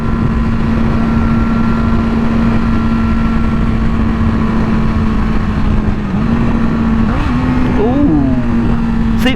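A Yamaha R6 motorcycle engine drones steadily while riding at a constant pitch, then blips and drops through rising and falling revs as the rider downshifts near the end, loud and continuous under wind noise.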